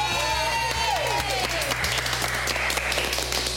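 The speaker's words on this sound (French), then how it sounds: "On applaudit Vanessa!" A studio crowd on a French-language reality dating show bursts into sustained, loud clapping under a bright musical sting, with the applause holding steady throughout.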